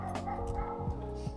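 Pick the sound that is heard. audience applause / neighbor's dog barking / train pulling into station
neighbor's dog barking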